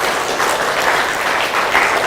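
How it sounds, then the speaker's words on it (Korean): A Korean church congregation claps loudly at an early-morning healing service, a thick, steady wash of applause from many hands, close and continuous with no voices. "하나님께 영광의 박수 올리겠습니다."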